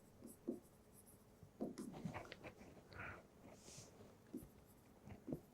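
A pen scratches across paper on a table during an economics lecture, giving short, uneven bursts of scribbling strokes that come and go with small pauses, close by and fairly quiet, with no talk.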